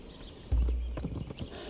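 A horse in the video game Conan Exiles: Isle of Siptah trots in with a heavy thud followed by a quick run of hoof clip-clops, close and fairly loud.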